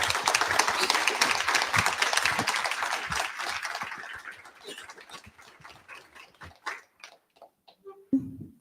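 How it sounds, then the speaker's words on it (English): An audience applauds after a panel discussion, dense clapping at first that thins out into scattered individual claps and fades to a few last ones near the end. "Please give these amazing leaders and founders a round of applause"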